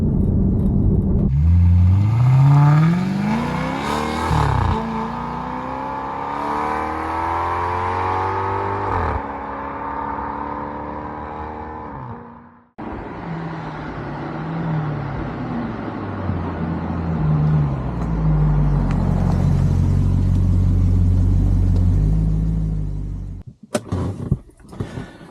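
A V8 Maserati GranTurismo is driven hard, its engine revving up through the gears with rising and falling roars, a sharp lift-off dip midway, then more acceleration; loud and close, without talking.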